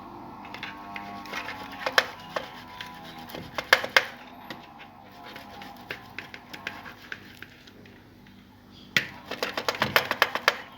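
Boiled potatoes being mashed, with irregular soft squelches and sharp knocks of a utensil against the bowl, bursts clustering near the start and end.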